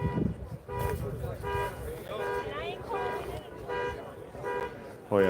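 Repeated car horn honks at a strike picket line, several sustained toots in a rough rhythm at close range, one last short blast at the end, with people talking in between.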